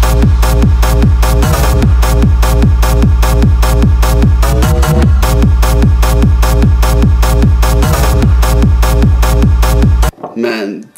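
A synthesizer patch from a Vodka expansion pack plays loud, rhythmic pulsing chords in a steady repeating pattern for about ten seconds, then stops abruptly and a brief voice follows.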